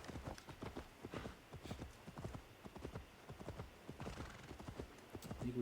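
Horse hooves in Assassin's Creed Valhalla, a steady clip-clop of a galloping mount close by, with a brief snort or whinny, rhythmic and continuous throughout.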